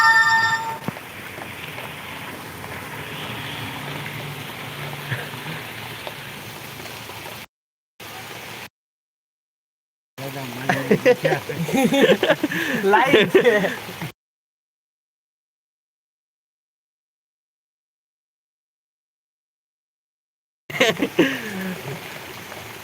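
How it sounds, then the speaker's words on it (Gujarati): Heavy rain driven by strong wind pours down outdoors in Gujarat, a dense steady hiss with splashing bursts, broken by abrupt silent gaps, while someone talks over it throughout. "અત્યારે વરસાદ હજી પણ જોરદાર પવનની સાથે વરસાદ વરસી રહ્યો છે"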